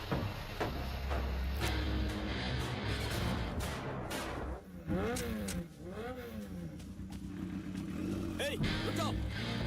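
A motorcycle is ridden away by a thief, its engine revving and whining over a busy mix of music and shouting voices, with rising and falling pitch sweeps as it pulls off.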